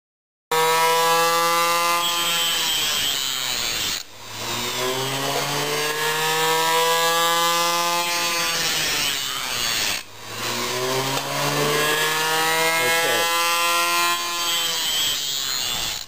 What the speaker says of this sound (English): now I push on the tooth that I'm going to grind